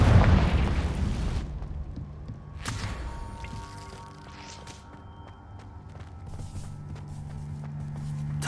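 A Confringo blasting spell bursts loudly at the start in Hogwarts Legacy, a heavy explosive boom that fades into a low rumbling ambience with faint scattered clatter.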